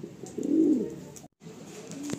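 Madrasi pigeons in a loft give a close, loud throaty coo lasting about a second, then after a brief gap fainter cooing and rustling continue.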